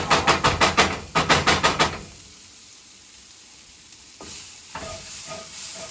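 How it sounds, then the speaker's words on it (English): Food sizzling in a cast iron pan while being stirred: two quick bursts of rhythmic scraping strokes, then a quieter stretch of soft sizzle before more clattering and frying resume. "I'm just going to stir it around here."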